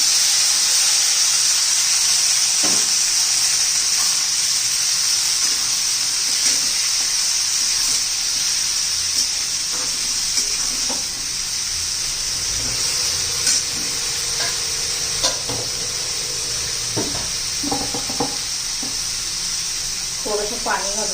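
Chopped bottle gourd sizzles steadily in a pan with turmeric, red chilli and onion-garlic masala, with occasional scrapes and knocks of a stirring spoon over the continuous hiss.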